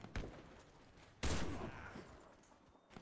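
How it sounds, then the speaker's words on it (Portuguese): Gunfire in the Warface shooter game, a few sharp bursts, one louder volley in the middle with faint shots trailing off, heard at moderate loudness. "Mentira, que Tiagão acertou um tiro assim rápido."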